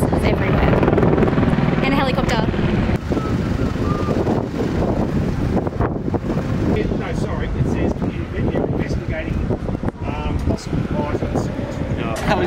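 A helicopter drones steadily overhead at a beach during a shark alarm, with police and ambulances nearby. The continuous rumble is fairly loud and wind-buffeted, and people talk over it.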